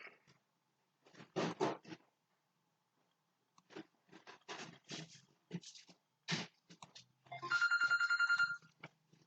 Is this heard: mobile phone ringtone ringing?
yes